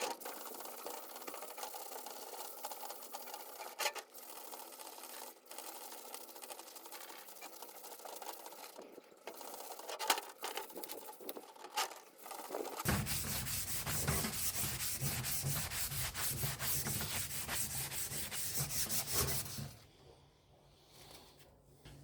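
A walk-behind tractor plough part is hand-sanded with a sandpaper-covered sponge, giving a steady scratchy rubbing that turns much louder and harsher midway before stopping.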